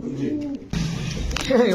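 Pigeons coo in short soft throaty bursts nearby, with someone talking over them through part of the moment.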